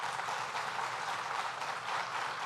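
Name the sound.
audience applause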